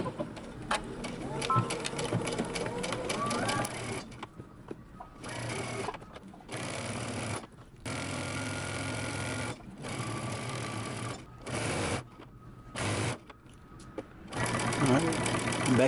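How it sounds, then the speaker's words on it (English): Home sewing machine running a straight seam on a button-up shirt, a close motor whir with needle chatter, starting and stopping in bursts separated by short silences, while a voice talks in places. "we're going to stitch using a straight stitch all the way down"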